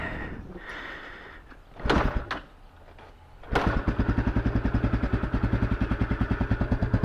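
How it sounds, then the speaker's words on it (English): A 250 motorcycle being kickstarted with the choke on: a few muffled kicks and clunks, then the engine catches and settles into a loud, fast, steady idle putter close by. "So I'm gonna first try kickstart it."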